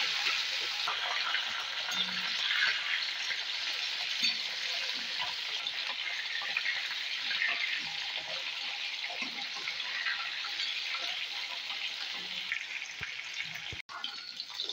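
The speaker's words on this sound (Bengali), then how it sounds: "মাছগুলো ভাজার জন্য আমি আগে থেকে নুন," Fish rubbed with salt, turmeric and oil fries in hot oil, giving a steady, dense sizzle that holds evenly throughout with no voices, ending with a brief clatter near the close.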